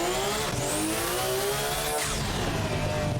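A 1017 bhp Lancer Evo IX race car with a sequential paddle-shift gearbox accelerating on the Nordschleife, its engine loud and steady as it climbs in pitch, with a short dip near the middle.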